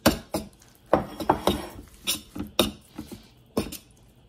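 A fork beating milk and egg in a dish for a phyllo pie, about a dozen sharp metallic clinks against the dish in an uneven rhythm, close and clear.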